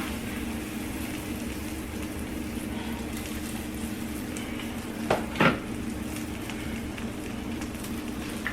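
An egg and cheese low-carb tortilla taco fries in a pan with a steady, even sizzle throughout, broken by a couple of brief clinks of a utensil against the pan near the end.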